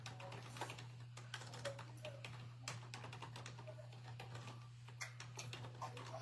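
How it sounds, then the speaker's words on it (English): Quick, irregular clatter of keys on a computer keyboard, close and fairly quiet, with a constant low electrical hum underneath and no talking. "Let me type it in the chat."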